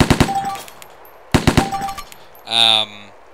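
A close-quarters rifle in the DayZ video game fires short rapid bursts, two quick volleys of sharp, loud shots separated by a pause, followed by a brief ringing mechanical clatter.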